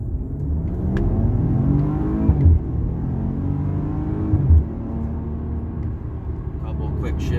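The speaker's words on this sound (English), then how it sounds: "Couple quick shifts through the gears, and you're at 60 miles an hour in no time." A 2019 Maserati Ghibli Q4S accelerates hard, its engine note climbing steadily, dropping briefly at each quick gear shift, then rising again; a loud, close rumble continues throughout.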